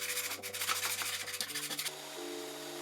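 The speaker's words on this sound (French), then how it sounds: "Pour finir, j'utilise une toile encore plus fine," P600 abrasive cloth rubs rapidly back and forth over the aluminium cover of a Brose motor, a close, rhythmic rasp of quick strokes over a faint hum, stopping abruptly near the end.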